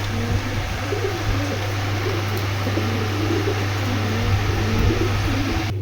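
Imported foreign pigeons coo softly in a loft, their low murmuring repeated over a constant mechanical fan hum.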